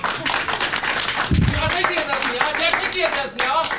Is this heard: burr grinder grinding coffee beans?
no